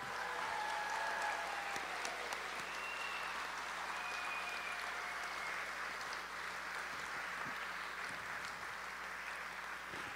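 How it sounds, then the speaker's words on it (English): A high school graduation ceremony audience of parents and guests applauds the graduates, sustained, even clapping from a large crowd that carries on steadily throughout, with no talk over it. "can we give them another big round of applause?"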